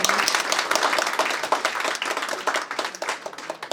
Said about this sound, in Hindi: तो एक बार उनके लिए तालियां हो जाए हमारे माता